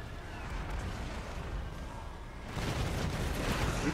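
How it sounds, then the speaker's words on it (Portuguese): Distant gunfire and battle din from Total War: Warhammer 2 form a continuous rumbling wash of shots and clatter, which swells louder midway through, with no talk. "Tiro sai com tudo, pelo visto."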